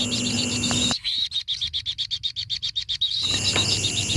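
A kingfisher gives a fast series of about fifteen sharp, evenly spaced chirps, clear and fairly close, with steady high background calls before and after.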